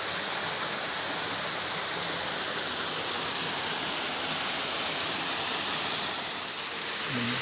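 Ambon Falls in Lobo, Batangas, pouring down in a constant broad rushing roar, close and loud, with no pauses or voices over the water.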